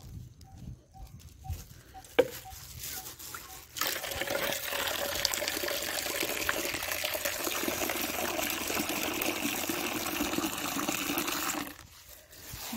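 Water is poured and mixed for watering chili seedlings, a steady splashing gush that follows a few faint clicks and runs for several seconds before stopping, with no voice heard.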